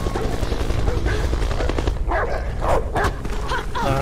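A dog barks and yips in the video game Beyond: Two Souls, repeated excited barks over dense, loud game noise with no clear pauses.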